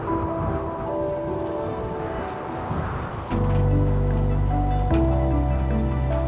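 Steady rain patters along the misty Tamhini Ghat mountain road, a dense even hiss that grows louder partway through as a low humming drone joins beneath it.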